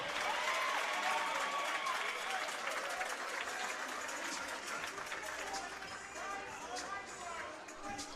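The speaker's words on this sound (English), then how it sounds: "the crowd continues to build here at the Falcons' Nest" A crowd roars at a Big V grand final basketball game between the Waverley Falcons and Ringwood Hawks, a sustained, fairly even wash of noise running under a commentator's talk throughout.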